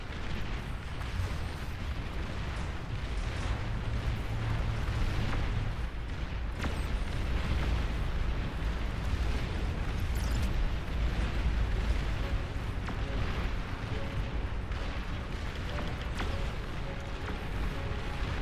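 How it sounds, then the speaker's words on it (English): In the Beyond All Reason strategy game, a nuclear missile launch sets off a continuous rumble of booming explosions and artillery-like bursts, dense and steady throughout, with a low drone beneath and no talking. "Nuclear missile launch detected."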